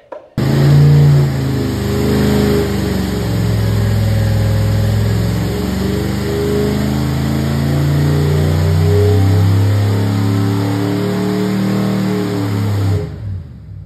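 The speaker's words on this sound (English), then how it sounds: "So yep, we had this lump of Ford cast iron on the engine dyno," A stock rebuilt Ford 390 GT cast-iron V8 runs on an engine dyno, loud and close, its deep exhaust roar climbing steadily as it revs toward 5,000 rpm and holding a sustained howl before cutting off near the end.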